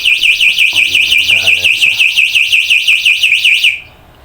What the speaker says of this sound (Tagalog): medyo malakas din yung alarm niya